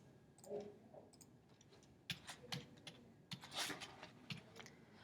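Someone keys an equation into a calculator: a short, uneven run of soft button clicks, quiet and close, with pauses between the presses.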